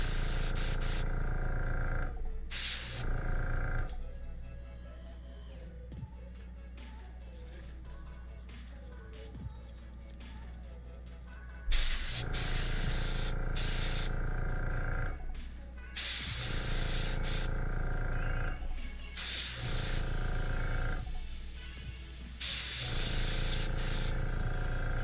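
Aerosol spray paint hisses in several long bursts of a few seconds each onto a 3D printed D.Va cosplay piece, loud and close, with quieter gaps in between.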